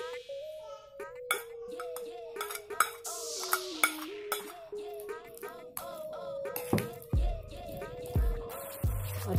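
A spoon clinks and scrapes against a bowl as grated cheese is stirred into a potato and sausage mixture, with irregular close taps and knocks over soft background music.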